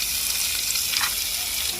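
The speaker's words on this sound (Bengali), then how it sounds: "আলুটা আমার ভাজা হয়ে গেছে" Potatoes fry in a little oil with salt and turmeric in a pan, giving a steady close hiss and sizzle throughout.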